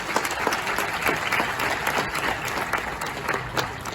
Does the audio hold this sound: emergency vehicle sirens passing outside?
no